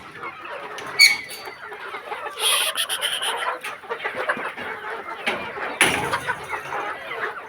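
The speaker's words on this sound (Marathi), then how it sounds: "आपण आधी आपल्या घरचं कुकडू पालन बघणार आहे" Chickens cluck and chatter steadily on a small home poultry farm of about five hundred birds, with occasional sharper squawks and a rooster-like call rising over the flock.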